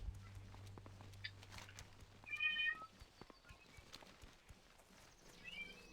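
A house cat meows a few times at moderate distance over a quiet game soundtrack with faint clip-clopping hooves from a mount.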